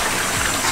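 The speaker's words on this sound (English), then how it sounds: "first you have to flush toilet bowl" An office toilet flushing, a brief loud rush of gushing water heard close and alone.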